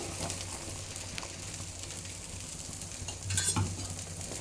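Chicken being stirred with masala in a frying pan, with a soft steady sizzle and scraping stirs that grow briefly louder near the end, without talk.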